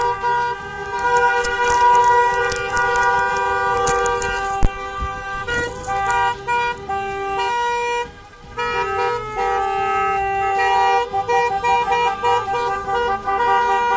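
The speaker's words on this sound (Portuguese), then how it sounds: "são mais de 500 carros saindo agora de Floripa pra manifestação, pra carreata" Car horns of a motorcade of more than 500 cars leaving Florianópolis for a protest honk loudly and without a break. Many overlapping sustained tones and toots blend into a dense chorus that runs the whole length, with a brief dip midway.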